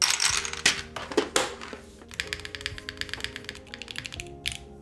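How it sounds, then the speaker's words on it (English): Clacky taps on an Envoy spacebar fitted to a Luminkey65 mechanical keyboard with stock stabilizers, a few sharper strikes first and then a quicker run of lighter, evenly spaced clicks, close and alone. "my Envoy spacebar sounds different on each side?"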